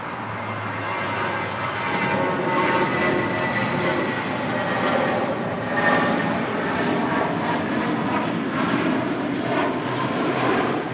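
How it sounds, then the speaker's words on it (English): A Spirit Airlines Airbus A320 jet takes off at LAX, bound for Kansas City, Missouri, its engines a loud, steady broadband roar that holds throughout with no talk. "That was Spirit Airlines 816 taking off to Kansas City"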